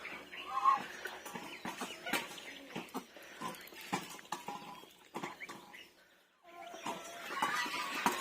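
Hens near a duck house cluck in short uneven bursts close by, with a brief quiet gap before the clucking resumes, and no one speaks.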